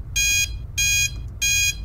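A video game alarm clock rings in three bright, sustained electronic bursts with short gaps between them, loud over a low background hum.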